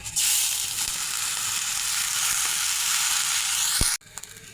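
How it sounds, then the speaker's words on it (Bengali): Washed rice and lentils hit hot soybean oil for khichuri, setting off a loud, steady sizzle that holds for nearly four seconds before cutting off abruptly, followed by faint scrapes. "এখানে আমি খিচুড়ির জন্য চালটা ভেজে নেব তার জন্য সয়াবিন তেল দিয়ে দিলাম"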